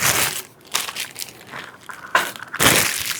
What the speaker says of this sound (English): It's a lot of plastic and packaging.